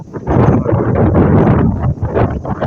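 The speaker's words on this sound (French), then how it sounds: "alors évidemment il y a du vent" Loud, blustery wind buffeting the microphone, a continuous rumbling roar with gusty surges throughout and no voices.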